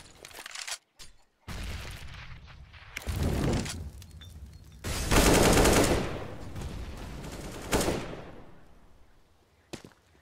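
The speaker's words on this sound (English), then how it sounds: "shots being spammed through" Rapid gunfire from the Counter-Strike Inferno map in a competitive match, bursts of spammed shots and sprays coming in loud clusters over about ten seconds, without voices.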